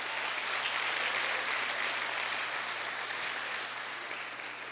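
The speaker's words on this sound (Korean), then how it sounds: "박수로 환영해 주십시오." An audience claps steadily and evenly to welcome the second Korea University alumni choir festival, with dense, sustained applause filling the hall and no voices over it.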